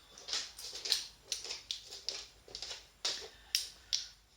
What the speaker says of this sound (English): That was my dog sniffing the camera.